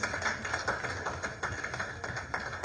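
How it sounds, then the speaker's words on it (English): Audience applause for the Ministry of Education and Sport at a live results-release event, a steady wash of hand claps from a crowd, moderately distant and sustained, with no voices on top. "Another hand clap for the Ministry of Education and Sport."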